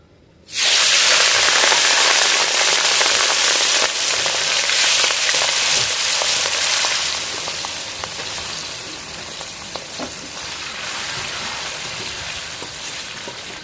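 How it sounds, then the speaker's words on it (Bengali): Prawns marinated in salt and turmeric drop into very hot oil, bursting into a loud, dense, rain-like sizzle that holds steady, easing slightly midway, with a few faint clicks under it. "এবারে আগের থেকে নুন আর হলুদ দিয়ে ম্যারিনেট করে রাখা চিংড়ি মাছটা দিয়ে দিচ্ছি।"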